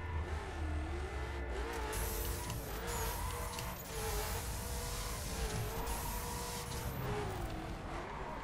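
A Koenigsegg Agera R firing nitrous in the racing game The Crew, its engine roaring loud and steady with rising revs that climb and drop through repeated gear shifts, plus a faint whine on top.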